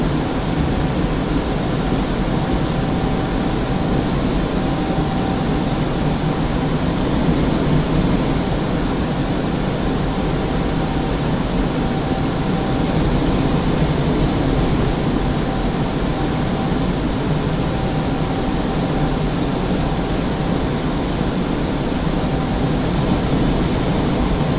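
An F-5E jet in the DCS flight simulator game holds a steady, even engine roar and airflow hiss on approach, continuous and unchanging throughout with no voices.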